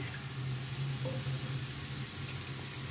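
Spice paste for a cauliflower curry sizzles steadily in a pan, a continuous close frying hiss with a faint watery trickle mixed in, no talking.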